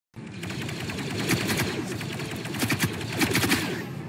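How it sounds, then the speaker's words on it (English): Rapid, continuous automatic gunfire from a heavy minigun in a video game, loud and close, rattling on for several seconds with denser bursts near the end. "I can't believe this is a minigun or heavy weapon"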